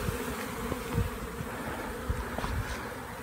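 A small honeybee swarm clustered on a mailbox gives off a steady, close insect buzz with a few louder passes of individual bees flying near, no voices.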